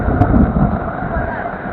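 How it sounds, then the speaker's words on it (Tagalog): Gusty typhoon wind buffets the microphone with a low, rumbling roar that stays loud and steady throughout. "Andun yung hangin siguro."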